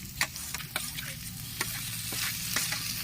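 Tomatoes are sautéed in a hot pan for a chicken tawa fry, a continuous sizzle broken by several sharp scraping strokes of a spoon stirring, close up with no talking.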